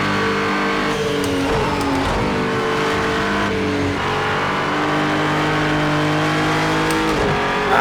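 GT3 race car engine in Project CARS 2, a steady loud drone with harmonic tones rising and falling through gear changes across the whole stretch, no talk.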